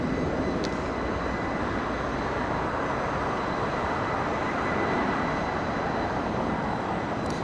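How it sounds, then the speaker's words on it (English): An Airbus A350 airliner coming in to land near Los Angeles, its engines giving a steady, broad roar that holds evenly throughout, fairly distant and with no voices over it. "All right, A350 coming in."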